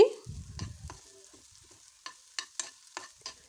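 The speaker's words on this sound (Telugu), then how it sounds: "కాసేపు వన్ సైడ్ ఇలా ఫ్రై చేసుకొని తర్వాత టర్న్ చేసి ఇంకొకసారి ఫ్రై చేసి ముక్కలు పూర్తిగా ఇలా ఫ్రై చేసుకోవాలి" Bitter gourd pieces fry in a pan on low heat, a dense low clatter of stirring at the start giving way to quiet sizzling and a few sharp spatula taps on the pan near the end.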